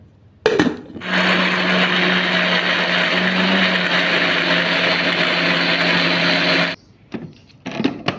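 A blender starts up and runs at a loud, steady whir for several seconds, grinding a thick ginger-garlic paste with water, then cuts off abruptly followed by a few clattering knocks.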